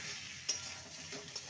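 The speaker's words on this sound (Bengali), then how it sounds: "ভালো করে মশলা দিয়ে নেড়ে নেব।" Brinjal with spices being turned in a pan for a dry vegetarian dish, a quiet sizzle with a soft scrape of the spoon near the middle and another fainter one near the end.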